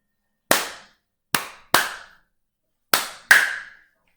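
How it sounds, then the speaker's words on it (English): Five sharp hand claps in a ta, ti-ti, rest, ti-ti rhythm pattern, close and crisp with a clear gap before the last pair, no voices. "I'm gonna go ahead and clap it without saying a thing."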